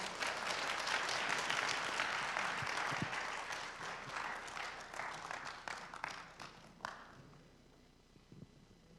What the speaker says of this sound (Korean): 다시 한 번 더 박수로 환영해 주십시오